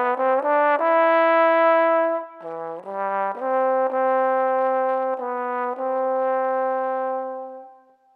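An alto trombone plays a short series of sustained notes, clear and close, steps moving down and back up before fading out.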